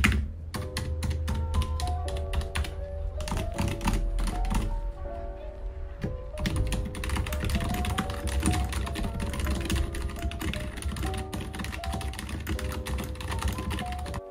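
Continuous, close typing on a full-size 108-key Creamy Wombat Pine Pro keyboard with factory-lubed Cherry MX switches and XDA PBT keycaps, brisk even keystrokes with a short gap, backed by a soft musical bed.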